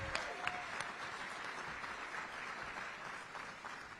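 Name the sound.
audience applause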